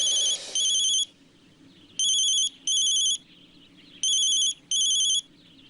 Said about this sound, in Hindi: उसको फोन मैं लगाती हूँ।